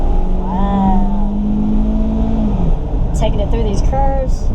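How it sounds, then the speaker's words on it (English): The engine of a 2002 Toyota Celica GTS automatic hums under load while driving, a sustained rising note that falls away after a couple of seconds, with brief higher squeaks and rattles near the end, all up close. "you do actually hear the engine doing work"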